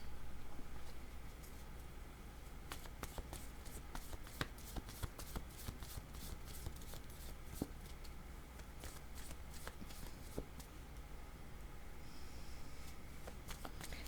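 Tarot cards are shuffled by hand close up: repeated soft riffling and flicking bursts in a quiet room, with no talking.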